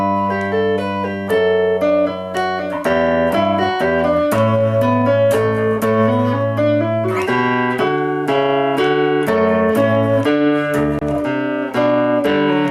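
Second half of Minuet in G on a keyboard, both hands playing a continuous melody with a moving bass line, steady and clear throughout without any talk.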